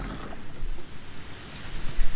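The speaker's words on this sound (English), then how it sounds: "This sudden rain has us in a bit of trouble." Steady rainfall in the Higurashi When They Cry visual novel game, a dense even patter of drops hitting surfaces with soft low rumbling swells, heard alone with no voices.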